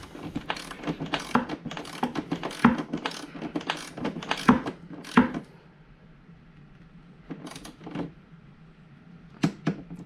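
Sharp metallic clicks and ratcheting of a torque wrench set to 10 Newton meters, tightening LiFePO4 battery connections, in bursts, some close together and some spaced apart, fairly quiet with pauses between them.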